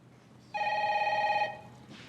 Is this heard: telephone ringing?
yes